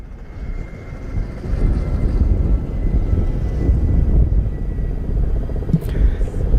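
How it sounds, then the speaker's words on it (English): Deep, steady rotor rumble of three Kamov Ka-31 helicopters passing overhead at the 2026 International Fleet Review, loud and continuous, with a faint voice in the background. "Three Kamov 31 helicopters."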